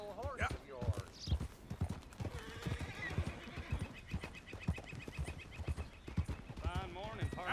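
Hooves clip-clop steadily on the ground as a horse walks in the video game Red Dead Redemption 2, with a horse whinny and nearby voices talking over the rhythmic footfalls.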